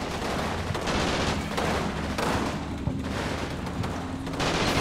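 An anti-tank gun in the Combat Mission war game fires on an armored Stuart tank, producing loud, dense volleys of gunfire and booms in repeated bursts, close and unbroken, with no talk.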